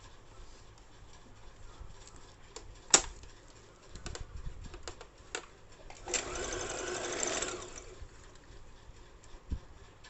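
A sewing machine running in short bursts while stitching salwar fabric, with faint clicks and a longer steady whir of stitching in the middle, quiet and close, no talking.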